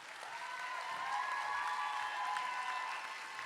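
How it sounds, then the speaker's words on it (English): Faint, distant applause from a convention panel audience, an even, hushed patter of many hands with a faint steady hum beneath it. "You do realize you're applauding yourselves at this point"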